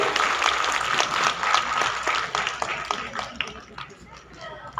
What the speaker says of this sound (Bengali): একটু করতালি দেবেন আপনারা অবশ্যই